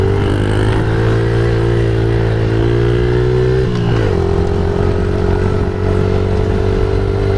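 A Suzuki DRZ 70 dirt bike climbing a hill, its small engine droning loud and close with a steady buzzing note that drops briefly mid-climb, then carries on.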